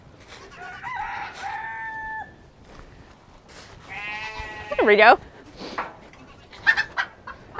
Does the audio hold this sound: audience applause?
no